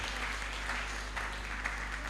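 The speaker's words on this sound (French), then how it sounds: "On peut acclamer pour eux deux" A church congregation claps together in a steady, sustained wash of applause over a low hum, with no voices.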